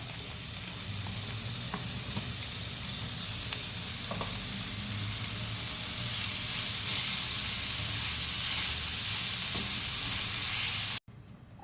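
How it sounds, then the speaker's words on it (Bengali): Green chilies, onion and carrot frying in a pan, a continuous even sizzle with soft hissing and occasional stirring scrapes, close and steady before cutting off abruptly near the end. "এখন আমি এখানে কাঁচা মরিচ কাঁচা পেঁয়াজ গাজর এগুলো একটু ভেজে নিব"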